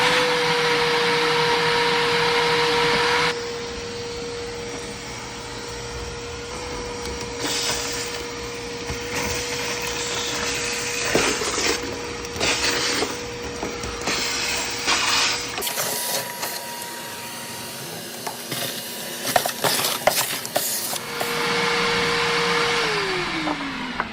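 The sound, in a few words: shop vac vacuuming junk out of an AC unit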